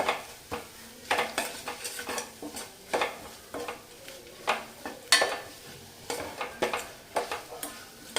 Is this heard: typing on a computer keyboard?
no